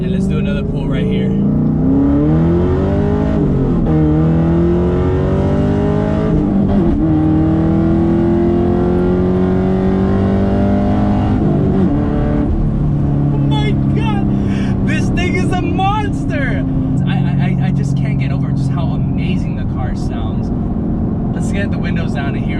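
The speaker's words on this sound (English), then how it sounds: "And let's do another pull right here." A 5th Gen Camaro SS pulls hard from inside the car, its engine roaring loudly as it climbs through the revs with shifts along the way, and a person talks over it near the end.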